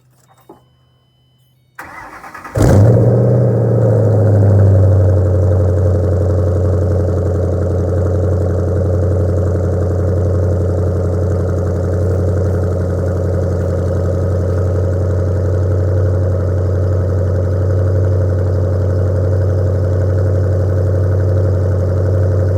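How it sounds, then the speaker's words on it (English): A Ford Mustang cold-starts after a brief quiet moment: a sharp cranking catch, then the engine settles into a steady, loud, close-up idle with a deep, even rumble that holds for about twenty seconds. "I'm going to set this camera up and get a cold start."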